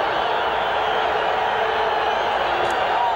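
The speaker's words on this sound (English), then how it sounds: "the Nevada crowd rising as one to cheer their defense" A Nevada crowd at a 1990 NCAA I-AA national semifinal football game against Boise State roars for its defense, a dense, loud and sustained wash of cheering from a big stadium.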